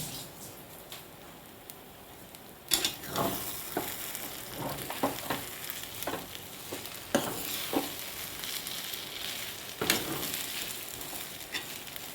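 Rice rava upma with bobbarlu simmers in oil over a low flame, giving a steady soft sizzle broken by repeated close scraping stirs of a spoon in the pan.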